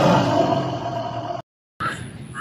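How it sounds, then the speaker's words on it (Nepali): A loud, sustained tiger-like roar sound effect fills the first stretch, cuts to a brief silence, then returns more thinly with a bright tonal layer near the end. "बाघको जस्तो आवाज,"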